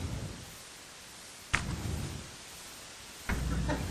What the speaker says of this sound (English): That was the sound of the gavel hitting the wood.